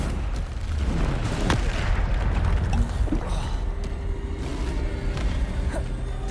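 A booming magical Bombarda blast in Hogwarts Legacy, a loud low rumble that lingers under a dense game soundscape.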